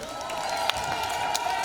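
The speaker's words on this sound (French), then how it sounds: "Nous demandons à toute la tribune et toute l'assistance d'applaudir encore ces mamans." Crowd on a festive public square applauding mothers at a women's day launch event, dense clapping with a few cheers and whoops, close and steady.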